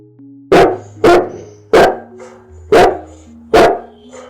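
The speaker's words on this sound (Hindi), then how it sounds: "अचानक से जोर से भौंकना शुरू कर दिया" A dog barks loudly and close by, five sharp woofs in a steady rhythm, over a faint low hum.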